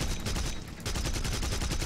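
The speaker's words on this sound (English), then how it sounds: "And now it's just down to the cannon fire." Sustained cannon fire from a Spitfire fighter in the War Thunder combat game, a dense, rapid stream of loud gun reports with a brief lull before the firing resumes, close and unbroken.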